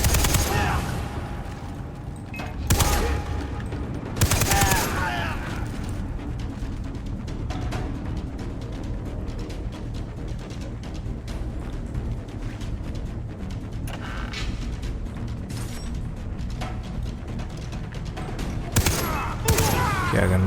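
Machine gun fire in the shooter game Far Cry 3, bursts of dense rapid shots that come and go over a continuous loud rumble of gameplay, with several clear crackling volleys.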